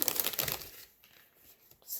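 A small plastic packet from an online-order parcel crinkles and tears open up close, with a burst of rustling at the start, quieter handling, then another short crinkle at the end.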